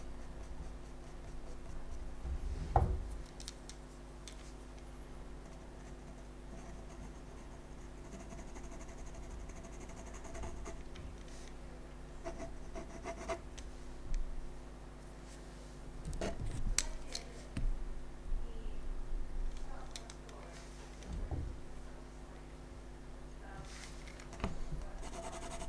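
Pencil sketching and shading on paper for a home or studio drawing: faint, intermittent scratchy strokes over a steady low electrical hum, with a few sharper scrapes scattered through.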